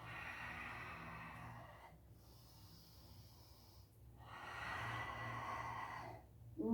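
Slow, deep breaths drawn in close to the microphone, long airy inhales separated by quiet pauses.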